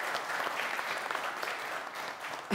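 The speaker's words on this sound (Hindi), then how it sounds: "आपके लिए मैं तालियां बजाना चाहूँगा" Audience at a live entertainment show breaking into applause, a dense, even wash of clapping from many hands that holds steady throughout, with no talk over it.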